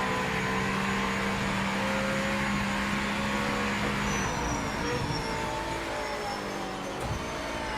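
A racing car engine in Project Motor Racing drones loud and continuous, its pitch shifting as paddle shifts trigger quick automatic throttle blips, with no voices.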